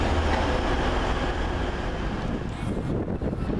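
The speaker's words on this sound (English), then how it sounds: "just leaving now, 185107. With 12:45 Transpennine Express service from Liverpool Lime Street to Scarborough" A Class 185 TransPennine Express diesel unit departs Huddersfield station on the Liverpool Lime Street to Scarborough service. Its engine drones loudly and steadily, with some wind buffeting on the microphone.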